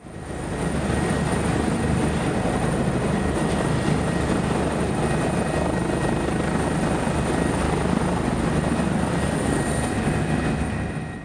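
A firefighting helicopter works over mountainous terrain, its rotor and turbine roar steady, loud and close throughout with no break.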